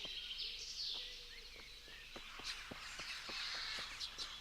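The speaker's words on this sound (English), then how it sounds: "The bird sounds are very realistic apparently as well." Crows caw repeatedly amid other bird calls in the outdoor countryside of the medieval game Kingdom Come: Deliverance, a steady series of harsh calls at moderate distance with no talk.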